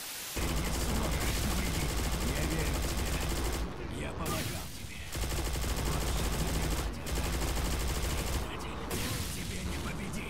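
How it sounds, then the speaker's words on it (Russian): Dense, continuous gunfire with booming explosions from the video game Stalcraft, loud and relentless, with a few brief dips before the barrage resumes. "Стрельба, взрыв, бабах."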